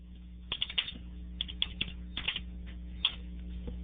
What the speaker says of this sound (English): I could type in a description.